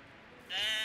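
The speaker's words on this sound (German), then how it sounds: "Mäh, ihr Schafe." A sheep bleats in Medieval Dynasty, a single short wavering bleat that rises suddenly out of quiet and holds to the end.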